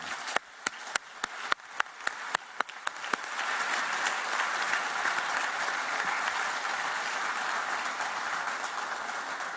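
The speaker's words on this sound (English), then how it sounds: "give a strong round of applause to this excellent panel" Audience applause for a panel at an energy forum, opening with a few sharp, evenly spaced near claps before swelling into a steady, dense crowd clapping that continues to the end.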